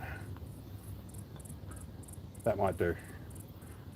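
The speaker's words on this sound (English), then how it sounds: "The cicadas have started to come out too" Cicadas buzz outdoors in a regular run of faint, high, pulsing bursts that carries on steadily while someone briefly speaks nearby.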